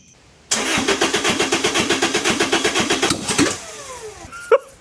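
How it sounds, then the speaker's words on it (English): A swapped-in Toyota 2ZZ engine in a Spyder cranks in a steady rapid rhythm for about three seconds, firing on one cylinder briefly without fully starting, followed by a single short clank. "That was one cylinder firing"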